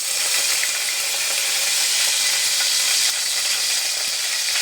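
Curry leaves hit hot oil in a pan while a Malvani crab curry is being cooked, giving a loud, steady, close sizzle with a bright hiss that holds throughout, with no voices.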